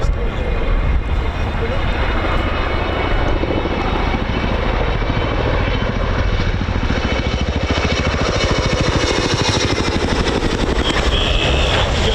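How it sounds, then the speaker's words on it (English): An RAF Chinook helicopter hot taxis along the runway at RAF Fairford during the RIAT 2023 airshow, its loud, continuous rotor chop and turbine roar filling the scene, with a commentator talking over it. "doing a hot taxi along the runway in rather spirited fashion, the RAF Chinook"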